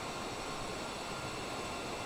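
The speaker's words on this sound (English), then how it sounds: "Look at those engines, too. Those are some big old engines." Boeing Dreamliner jet engines in Microsoft Flight Simulator, a steady broadband engine roar that holds an even, moderate level with no change.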